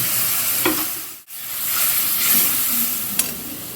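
Spice paste sizzling and frying in a hot pan for a rohu fish curry with cauliflower and potato, a steady close hiss with a spoon stirring through it and a brief pause partway.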